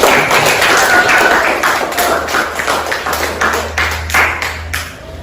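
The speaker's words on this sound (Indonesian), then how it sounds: "Tepuk tangan dulu untuk" Students in a classroom clap for a presenting group, a close, loud burst of uneven hand claps and taps that fades toward the end.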